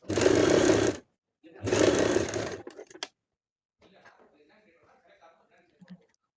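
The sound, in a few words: sewing machine stitching canvas for a hip belt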